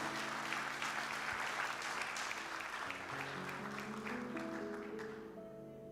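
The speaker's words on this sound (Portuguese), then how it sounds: "aplauda o nome de Jesus" A church congregation applauds during a sermon in a large hall, with a steady wash of clapping that thins toward the end while sustained organ or keyboard tones sound underneath.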